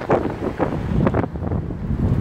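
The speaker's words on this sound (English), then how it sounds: "it's windy here." Gusty wind buffets the microphone in bursts of low rumbling noise, close and uneven, on a cool windy stop along the Greek coast during a motorcycle tour.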